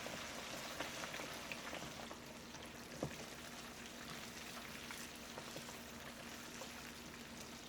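Chicken wings frying in oil over medium heat for lemon pepper wings, a steady, fairly faint crackling hiss with soft scattered pops and no voices.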